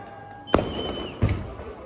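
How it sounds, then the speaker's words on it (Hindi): At a political victory celebration, firecrackers go off in two sharp bangs about a second apart, each with a short rumbling echo over a murmuring background. "ये पटाखे जो छोड़े जा रहे की आवाज है"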